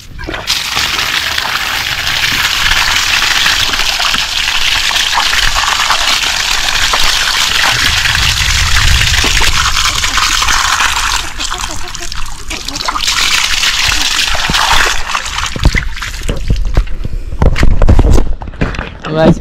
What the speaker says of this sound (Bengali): এখান থেকে একটু পাটা ধুই না।